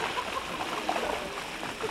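A live fish flaps and splashes in water in a kitchen, a short burst of close wet slapping and churning.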